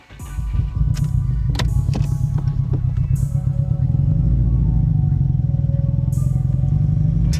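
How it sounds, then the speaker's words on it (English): A Subaru engine with a misfire starts up and settles into a loud, uneven exhaust rumble with a choppy, loping beat, with occasional clicks and knocks over it. "it sounds like a freaking STI, like the rumble"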